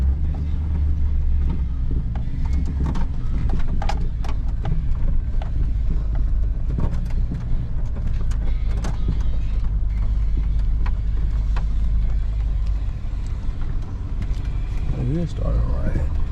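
A Cateye Z71 pickup truck's engine runs with a deep, steady low rumble, close by, under intermittent talk and scattered clicks and knocks, with a brief rising tone near the end.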